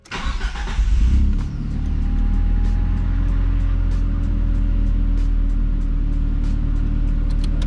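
A Nissan S13 engine cranks for about a second with a fast churning starter rhythm, then catches and settles into a steady, loud, close idle rumble with a faint high whine above it.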